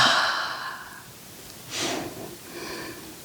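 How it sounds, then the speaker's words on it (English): Deep breathing during a yoga class, with a long audible exhale at the start followed by softer slow breaths in and out, close and quiet with no talk. "And then we're going to breathe."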